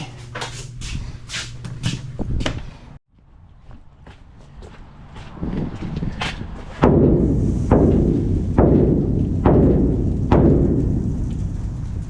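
Feed banged down into farm feeders: a series of sharp metallic bangs and knocks, spaced irregularly and ringing out close by, with a brief pause and then louder, regularly spaced thumps and rattles.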